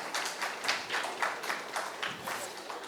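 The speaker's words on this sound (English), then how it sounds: "I request the audience to join us with a round of applause for all our panelists as well" An audience at a panel discussion claps for the panelists, a moderate round of applause with distinct rhythmic claps at a steady level.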